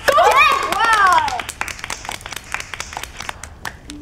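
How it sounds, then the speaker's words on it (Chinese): Brief burst of clapping from a small group of colleagues at an office gathering, sharp scattered claps continuing after a loud cheer and exclaiming voices at the start. "鼓掌！"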